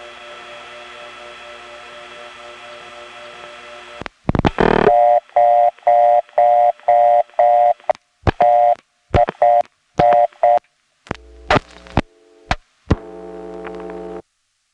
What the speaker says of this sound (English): I'm going to dial one of the other 8-7 codes without a 7 first.